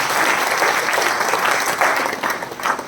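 A hall crowd at a business leadership program gives loud, sustained applause, a dense, even wash of clapping that runs unbroken for the full stretch.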